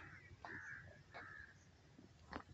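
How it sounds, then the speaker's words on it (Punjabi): A crow cawing near a river area on a morning walk, several distinct caws spaced over a couple of seconds, fairly faint against quiet outdoor background. "ਇਹ ਕਾਂ ਨਹੀਂ ਡਰਦਾ।"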